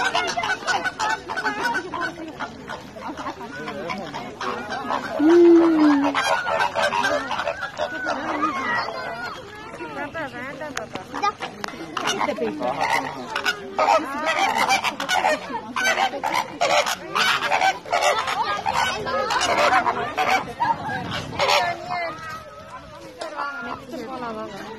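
Geese at Al Areen zoo in Bahrain honk and chatter in repeated bursts amid other fowl clucking, with people talking and exclaiming nearby throughout the busy outdoor scene.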